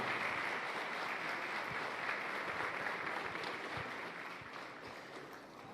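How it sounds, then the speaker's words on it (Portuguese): An audience at a church couples' seminar applauds steadily, a soft dense wash of clapping that fades slightly toward the end, with no speech over it. "Você pode aplaudir essa pessoa que está do seu lado aí?"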